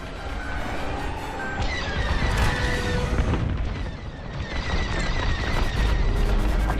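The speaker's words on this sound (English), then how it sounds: "Detonate the core, now!" Core detonation in Star Wars Squadrons, a loud, sustained roar of blasts and crashing debris with several heavy booms layered over a continuous rumbling wash.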